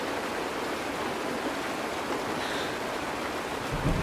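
Rain falls in a steady, even hiss, a dense broadband wash of drops with no distinct splashes and no voices, in a sci-fi game scene on a desert world where rain arrives.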